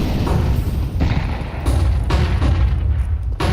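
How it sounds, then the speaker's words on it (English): Grenade blasts in a Counter-Strike match, loud booming explosions in quick succession with heavy low rumble, close and dominant over the game's background noise. "Nice chunky nade there onto Lucan."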